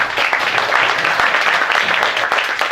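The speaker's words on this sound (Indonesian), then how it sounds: "tepuk tangan untuk beliau" An audience at a religious lecture gathering claps in dense, steady applause, loud and sustained throughout.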